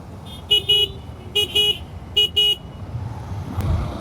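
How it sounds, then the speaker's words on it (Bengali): A car horn honks in two quick double bursts, then another pair, bright and fairly close over low road rumble, with a louder thump near the end. "কি ইনি এত হর্ন বাজায় কেন"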